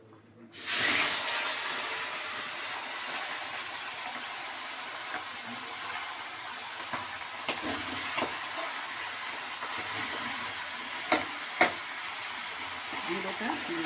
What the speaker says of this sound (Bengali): মুড়োটা দিয়ে দিলাম। মুড়োটা আমি ভেজে নেব।